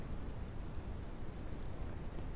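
Rain falling in the survival video game Mist Survival, a steady broadband hiss with dense patter of drops, constant and even throughout with no voices.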